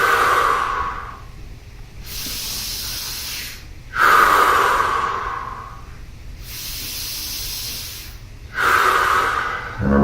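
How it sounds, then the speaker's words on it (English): Deep Wim Hof method breathing, with strong forceful inhales and exhales alternating in slow, even cycles. The breaths are loud and close and stand alone without talk. "I'm just breathing this energy in."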